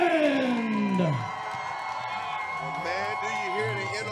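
A crowd at a Knoxville, Tennessee fight-night event cheers and whoops for fighter Harrison Reymond, loud sustained noise under an announcer's voice over a PA, with occasional claps.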